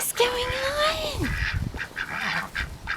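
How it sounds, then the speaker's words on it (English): A broody female duck quacks from inside a backyard coop in spring, a loud drawn-out honking call followed by softer scattered calls and rustling nearby. "Yeah, she's in there quacking."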